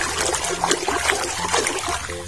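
Water runs and splashes steadily while muddy toys are rinsed clean, a continuous close trickle and pour with no pauses.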